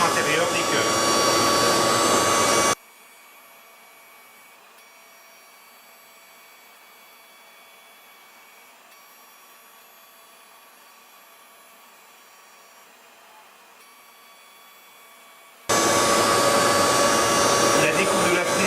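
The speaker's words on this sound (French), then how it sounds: "Désormais passé à la découpe de l'acrylique, où l'on découpe actuellement les formes intérieures des cœurs" Laser cutter cutting heart shapes from acrylic: loud whooshing air-assist and extraction hum at both ends, with a long, much quieter steady hum in between.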